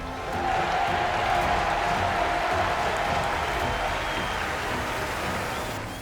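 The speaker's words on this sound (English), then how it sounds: "To stand on the start line and to hear a crowd roar." A large crowd roars and applauds steadily at the start line of a race, a dense and loud wash of cheering that holds for several seconds with no break.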